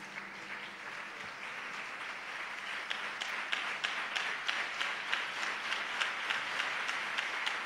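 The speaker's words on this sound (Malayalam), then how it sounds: "ആദ്യം ക്ലാപ്പ് ചെയ്യാം. Give A clap." An audience claps, faint and somewhat distant at first, then the individual claps grow sharper and more distinct toward the end.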